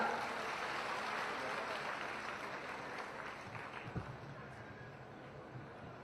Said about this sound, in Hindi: आप सबकी ओर से, हम सबकी ओर से ये भेंट, जोरदार तालियां।